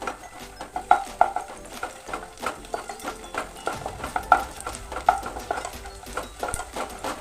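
Cashews, almonds and peanuts roasting in a pan, stirred steadily with a utensil that scrapes and clinks against the metal in an irregular rhythm over a soft, faint sizzle.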